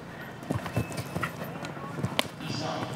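Horse hooves clip-clopping on the ground during a show jumping round, a few uneven thuds with an occasional snort, heard alongside commentators talking.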